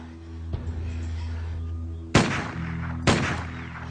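Gunfire during target shooting: a soft early crack, then two loud sharp shots about a second apart, each with a short echoing tail, over a low background hum.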